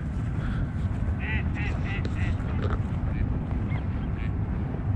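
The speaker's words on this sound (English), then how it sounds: "But look, there's a big old flock of birds over there." A large flock of ducks on a lagoon in Ensenada, Baja California, keeps up scattered quacking over a steady outdoor noise bed, with the calls rising in brief clusters at a moderate distance.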